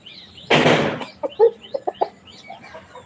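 A rooster gives a loud burst of calling, then several short, sharp clucks follow at uneven intervals, close by and with no voices.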